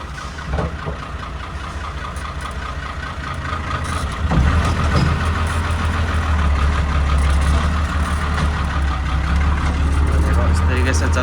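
A 110-horsepower tractor engine runs on an Italian farm, a deep steady rumble that grows louder partway through and then holds, with someone talking over it.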